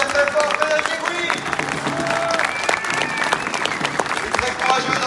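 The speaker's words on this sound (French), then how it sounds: "On peut applaudir très fort Frédéric Egouy." A rally crowd applauds a speaker at a political gathering, loud sustained clapping with scattered voices and shouts mixed in throughout.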